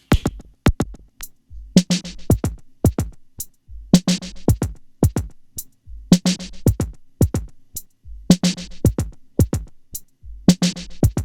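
A punchy drum loop processed through Guitar Rig 6 repeats steadily, with kicks and snares trailed by quick echoing delay repeats that ring out between hits.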